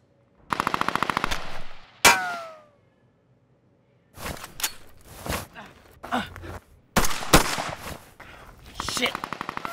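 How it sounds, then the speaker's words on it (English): Rapid bursts of gunfire sound effects for an action scene, mixed with foley hits, dirt impacts and grunts, come in sharp clustered volleys separated by a brief silent gap. "this should be a little bit of gun sound effects, a little bit of Foley, a little bit of dirt, and a little bit of grunts"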